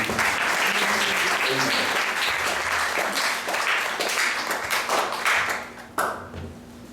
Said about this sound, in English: let's give a round of applause for Shastra